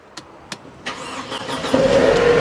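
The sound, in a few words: Mercedes-Benz C180 engine starting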